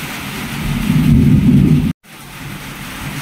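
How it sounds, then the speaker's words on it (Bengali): Heavy rain pours down in a dense, steady roar that swells and holds, broken by a brief gap partway through. "ওইদিকে অঝোরে বৃষ্টি হচ্ছে"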